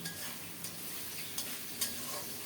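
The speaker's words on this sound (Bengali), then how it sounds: "মশলাটাকে আরও কিছুক্ষণ কষিয়ে নিয়ে" Masala frying in oil while being stirred for a fish head muri ghonto, a faint, even sizzle with a few soft spatula scrapes.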